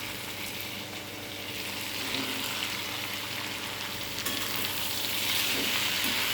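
Ivy gourd (kundri) frying in a pan of sautéed spices, a dense, continuous close sizzle that swells slightly louder toward the end, with a few faint stirring scrapes.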